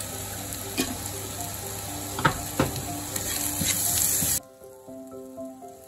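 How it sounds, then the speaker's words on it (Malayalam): Onions sautéing with a little salt in a pan for masala dosa make a steady sizzle with a few stirring clatters, then the frying drops out abruptly near the end, leaving quiet. "നമ്മുടെ ഉള്ളി വഴന്ന് വന്നിട്ടുണ്ട്"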